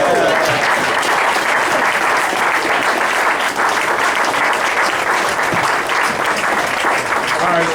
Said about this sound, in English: Again, another round of applause for Mike Peroutka.